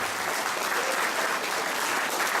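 Audience applause for Bernard Thévenet, dense sustained clapping from a crowd filling the whole stretch at an even level.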